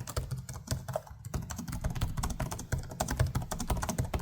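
Typing on the keyboard of an Alienware Aurora 16X gaming laptop from 2025: a fast, steady run of light, close plastic key clicks lasting several seconds, with no one talking.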